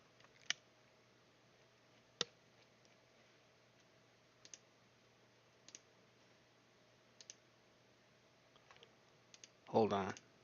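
A computer keyboard clicks sparsely and faintly against a quiet hiss, with isolated taps spread out, a few quick pairs, and a louder burst of clatter near the end.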